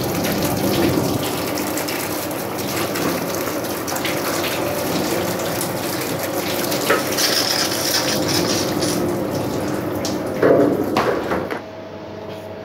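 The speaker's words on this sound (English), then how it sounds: "I'm going to get my rinse hose here. I'm just going to rinse off the starch." A rinse hose sprays water over freshly cut potatoes in a chip shop, washing off the starch in a steady loud gushing spray that stops abruptly near the end.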